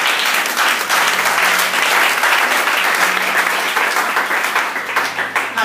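Church congregation at a ministry school opening service applauding, a sustained dense burst of many hands clapping close and loud, with faint voices mixed in.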